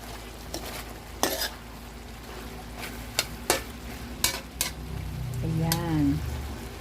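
Ginamay being stir-fried with celery in a pan, a loud steady sizzle under the sharp scrapes of a utensil against the pan, with clatter at irregular moments and a short hiss that swells near the end.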